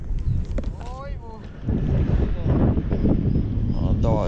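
Strong afternoon wind at sea buffets the microphone in a steady roar from a small boat, with water rushing beneath and a few short voices calling out over the noise.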